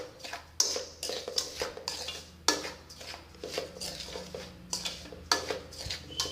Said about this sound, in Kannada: ಅದನ್ನು ಸ್ವಲ್ಪ ಮಿಕ್ಸ್ ಮಾಡ್ಕೊಳ್ಳೋಣ.